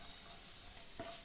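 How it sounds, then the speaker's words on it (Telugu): Chana dal, urad dal, cumin and mustard seeds fry in ghee, a faint, steady close sizzle with a single soft stir near the end and no talking. "1 స్పూన్ పచ్చెనగపప్పు, 1 స్పూన్ మినప్పప్పు, 1/2 స్పూన్ వచ్చి జీలకర్ర, కొంచెం ఆవాలు"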